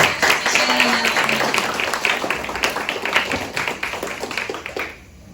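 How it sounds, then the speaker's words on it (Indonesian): An audience at a public speaking presentation applauding a speaker, sustained clapping from a crowd that fades out near the end. "Tepuk tangan dulu dong teman-teman untuk apresiasi Sheryl."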